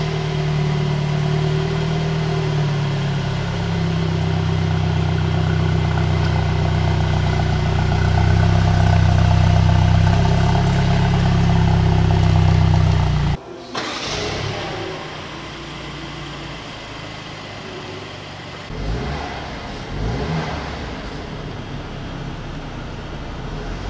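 A Mercedes C180 petrol engine runs at a steady, loud, close idle with a deep drone, then cuts off abruptly, leaving quieter ambient noise and a few faint knocks.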